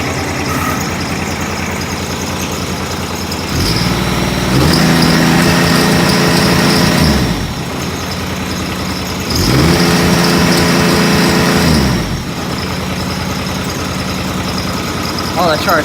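An engine idles loudly close by, then the throttle is given and it revs up and holds two separate times before settling back to idle.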